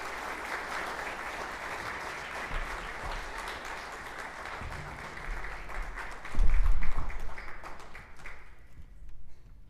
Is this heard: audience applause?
yes